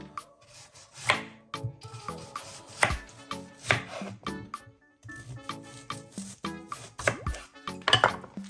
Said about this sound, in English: Chop 2 medium onions into onion rings